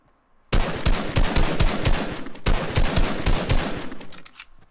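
Rapid bursts of automatic gunfire in the video game Fortnite, two loud clusters of shots with a brief gap between them, sharp and close, with no talking over them.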